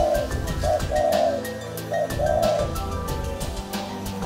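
Low, hollow spotted dove coos repeat in short phrases over a steady background of other sound, fairly close and clear.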